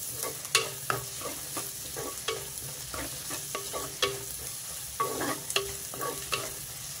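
Onions and ginger-garlic paste frying in oil for a boondi curry, a crackling sizzle punctuated by repeated sharp clinks and scrapes of a spoon against the pan at an irregular pace, close up with no talking.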